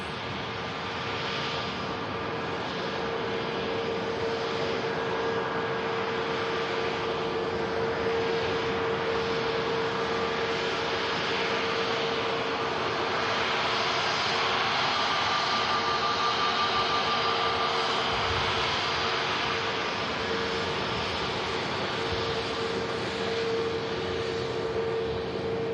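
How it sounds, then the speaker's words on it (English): An Airbus A320neo jet arriving at Manchester Airport makes a sustained broadband rumble and roar, with a thin steady tone running through it, building slightly toward the middle and then easing off, with no speech. "here's the Neo that's just arrived"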